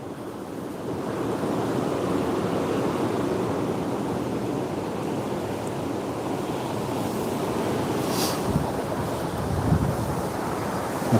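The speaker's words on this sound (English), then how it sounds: "it's too windy" Steady, strong wind on Christmas Eve in Berwick roars and buffets the microphone throughout, a dense rushing noise with occasional low thumps.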